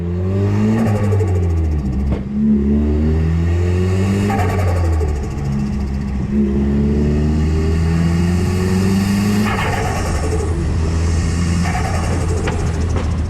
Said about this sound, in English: clips in right here of what the pod filter sounds like on my turbo Nissan Silvia S15